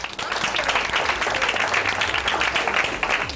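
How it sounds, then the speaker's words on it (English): Applause for a student honoured as a scholar athlete, a steady dense clapping from a crowd that fills the whole stretch at close range, with little talk over it. "I'd like all of you guys to help me give Alan a round of applause."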